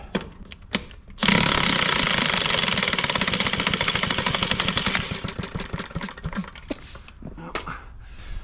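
An old Iron Horse engine fires and runs, a loud, rapid mechanical chugging and knocking that starts abruptly, holds steady for several seconds, then sputters and fades into irregular pops.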